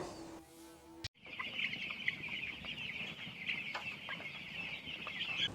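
Chickens cluck continuously at a broiler chicken farm, many overlapping close calls after a brief opening of other sound, with no talk.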